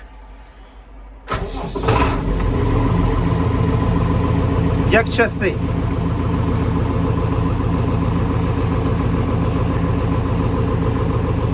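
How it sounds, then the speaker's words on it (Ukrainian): A YTO tractor engine cranks and catches, then settles into a steady, loud idle that continues throughout; someone speaks briefly over it. "Зараз замоторимо нового юта."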